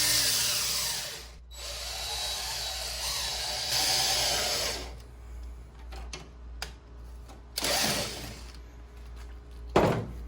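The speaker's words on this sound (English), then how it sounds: "reverse the drill to back the dowel out" A power drill whirs and strains in long bursts close by, driving a wooden dowel into a table base, grinding against wood, followed by scattered knocks and clatter.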